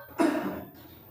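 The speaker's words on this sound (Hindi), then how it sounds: "सॉरी खांसी आ रही है।" One short, sharp cough from a teacher during a lesson, a single close burst followed by a brief fading tail.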